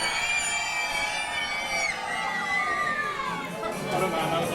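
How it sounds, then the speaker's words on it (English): Audience at a Northdown Havoc 2024 roller derby bout between Honk! and Flipperpool screams and cheers loudly in one sustained crowd roar, with children's shrieks mixed in. "give us a scream."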